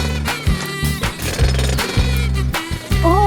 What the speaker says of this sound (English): it's a rock drilling machine